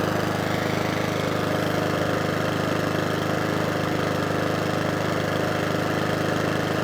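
A Mountfield 414 petrol lawnmower engine runs steadily at a constant, even pitch, loud and close, with no voices.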